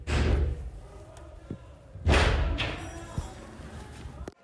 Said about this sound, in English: they listened to the invaders banging on that door, as you can hear on a recording from one of the staffers' phones